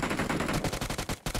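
Fast automatic gunfire in PUBG Mobile, a loud close string of rapid shots with a brief gap before the burst resumes.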